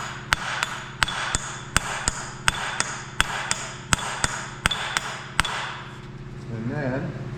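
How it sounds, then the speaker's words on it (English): A hammer taps the front cover of a Detroit Diesel Silver 4-53T engine into place, with about a dozen sharp, evenly spaced metallic knocks, close and loud, then a moment of low shuffling. "now we'll just tap it down a little bit"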